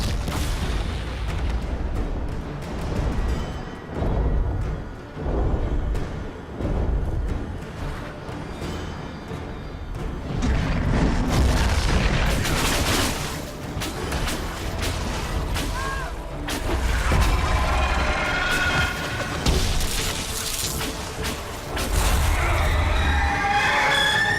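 Dragon breathing fire during a Dragon Age Inquisition boss fight, heavy rumbling roars and whooshing blasts over a thick game soundtrack, with loud bursts building and recurring through the fight.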